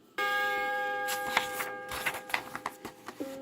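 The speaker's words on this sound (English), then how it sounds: "Remember, when you hear the chime, turn the page." A page-turn chime from a 1979 read-along book record of The Snowflake That Cried sounds as a sustained bell-like tone with bright overtones, followed by a few soft, light tinkling strikes. It is fairly quiet and has no talking over it.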